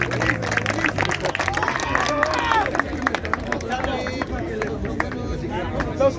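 An audience claps and cheers at an outdoor freestyle rap battle in Hidalgo Park, León, Guanajuato, with steady applause mixed with crowd chatter and voices throughout.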